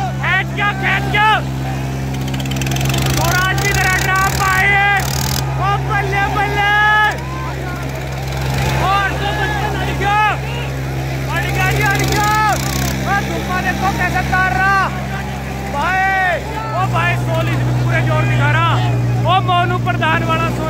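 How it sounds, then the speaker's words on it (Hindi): Tractors in a village tug-of-war contest drone with a steady, heavy engine rumble that holds throughout, while an excited commentator talks loudly over it almost continuously. "देखो जोर ट्रैक्टरों के, ये ट्रैक्टरों के जोर भाई"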